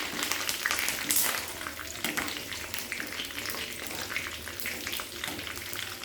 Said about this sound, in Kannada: ಆಮೇಲೆ 1-2 ಹಸಿಮೆಣಸು ಒಂದು ಸ್ವಲ್ಪ ಫ್ರೈ ಮಾಡ್ಕೊಳ್ಳಿ.